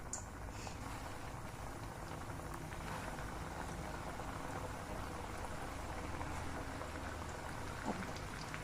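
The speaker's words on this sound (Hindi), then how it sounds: "अब इसको फ्राई करती हूँ एक एक करके। ऑयल गरम है" Chicken broast pieces coated in maida sizzling in hot oil, a steady, dense crackling and bubbling hiss that holds evenly throughout with no voices.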